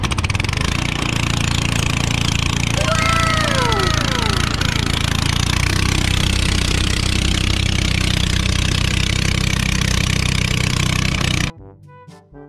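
Engine of a long-unused rice threshing machine at a palay harvest in the rural Philippines, running steadily and loud with a low rumble and rattling throughout, not yet warmed up, then cutting off near the end.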